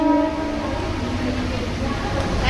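Inside a moving Mumbai local train, a steady low rumble of wheels on track runs throughout, with a brief horn-like tone at the start and faint voices mixed into the carriage noise.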